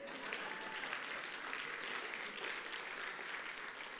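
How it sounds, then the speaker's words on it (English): A church congregation applauds during a sermon, producing a steady, even wash of many hands clapping together, heard somewhat distant and fairly quiet, with no talk over it. "Now you can clap."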